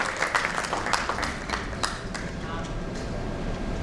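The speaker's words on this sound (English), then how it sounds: "So can we have a huge round of applause" Audience at a brand felicitation award ceremony gives a round of applause for an honoree; brisk, dense clapping from a sizable crowd, loudest at the start then settling into a steady, moderately loud patter.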